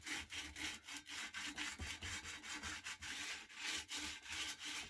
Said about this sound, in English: I gave all the edges a second rub down with the sandpaper to ensure they were all smooth